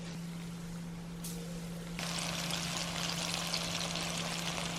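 Chicken pieces for Korean dakgangjeong slide into hot vegetable oil, and a steady loud sizzle of bubbling frying erupts and keeps going over a constant low electrical hum, with no talking.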